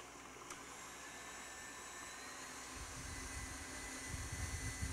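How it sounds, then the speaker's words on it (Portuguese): A stand mixer beats meringue for an egg-white pudding at maximum speed, producing a faint, steady motor whir with no pauses that gets slightly stronger toward the end. "agora eu vou levar para a batedeira. Já posso começar a bater em velocidade máxima"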